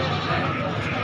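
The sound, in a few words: goats bleating at a goat market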